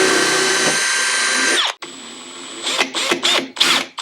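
A power drill with an 8.5mm bit bores holes through a go kart seat, a loud whining run that stops, then several short close bursts as the bit spins up and cuts again.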